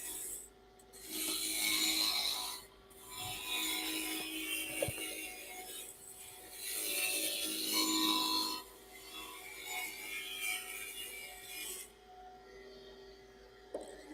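A wood lathe turns a rolling pin while a tool cuts and rubs along the spinning wood. A steady rasping scrape runs in long close passes over a constant motor hum, with brief pauses between cuts.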